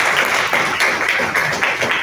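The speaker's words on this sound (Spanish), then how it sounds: "Den un aplauso" Brief audience applause during a church service, a dense burst of clapping hands filling the space for a couple of seconds.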